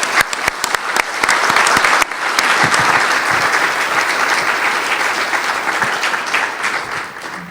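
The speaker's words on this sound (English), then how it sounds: "And a warm applause for you." An audience at a dementia conference in a Japanese tower hall applauds warmly, a loud, dense, sustained wash of clapping that continues steadily to the end.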